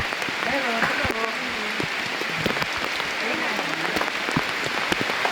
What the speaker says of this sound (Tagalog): Ayaw sa ulan.